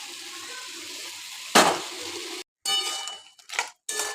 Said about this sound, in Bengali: এখন আমি একটুখানি জল দিয়ে দিই।